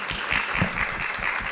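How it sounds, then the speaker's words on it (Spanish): An audience at a parliamentary diplomacy academy session applauds, a short burst of dense, even clapping close by. "Un aplauso también para ella."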